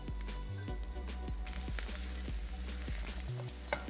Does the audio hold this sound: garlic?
yes